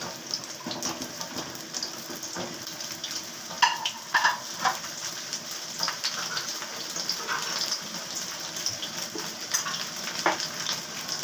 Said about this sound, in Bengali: এবার আমি আগে পটলটা ভাজছি।